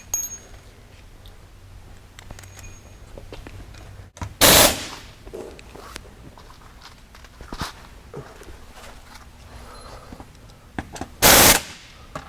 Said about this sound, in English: So at that point you can just go ahead and tighten everything down.